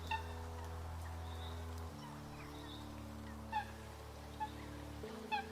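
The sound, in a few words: coot call recording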